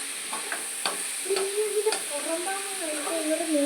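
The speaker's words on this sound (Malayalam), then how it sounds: "പകുതി വഴലി കഴിയുമ്പോൾ തക്കാളിക്ക് ഇട്ട് വഴറ്റണം." Shallots and tomato sauté in a pan for ulli theeyal, a close frying hiss with a few spoon scrapes while a voice talks over it.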